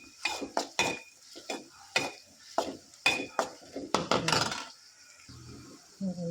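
A spoon stirs ground green chili in a pan, giving a series of sharp metallic scrapes and taps in an irregular rhythm, close and clear, with a faint sizzle underneath near the end.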